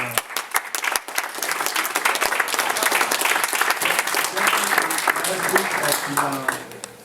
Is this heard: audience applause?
yes